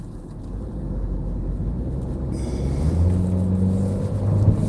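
A car engine drones low and steadily, its pitch rising as it revs up to about 4,000 rpm toward the end, heard from inside the vehicle while merging from Gratiot onto I-94.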